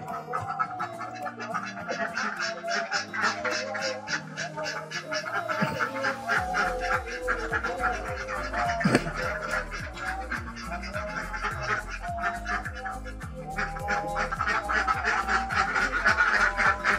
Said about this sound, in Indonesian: masih banyak kandang ini karena ini kawasan peternakan bebek memang